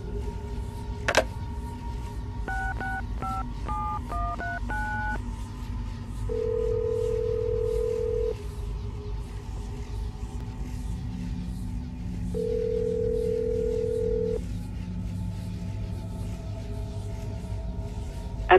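Telephone call in Assassin's Creed Brotherhood: a dial tone hum, a quick run of DTMF dialing beeps, then two long ringback tones separated by a pause, clean and steady with no voices.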